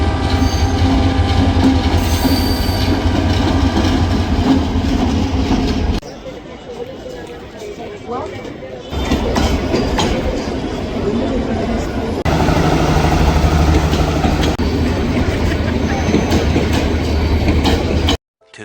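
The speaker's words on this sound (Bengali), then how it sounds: "অনেকক্ষণ অপেক্ষা করার পর আমাদের ট্রেনটি চলে আসছে।" A passenger train pulls into Narsingdi railway station in Bangladesh with a loud, close rumble, squealing wheels and rhythmic clickety-clack. The noise drops briefly midway, then swells again, with platform voices underneath.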